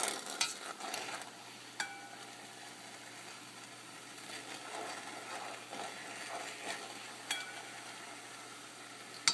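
Sweet pork pieces and eggs rolled around in a pan over medium heat to coat them, giving a soft steady sizzle with occasional scraping and clinks of a utensil, close and moderate, with no talk.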